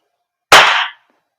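Action Army AAP-01 airsoft gas blowback pistol fired once, a single sharp loud crack with a short hissing gas tail, alone against silence.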